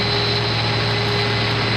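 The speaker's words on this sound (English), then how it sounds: "We have two big engines. This is one of them. This is the port one." A boat's big port engine runs loudly, a steady drone filling the space, a deep continuous rumble with a constant whine above it, close by and unchanging.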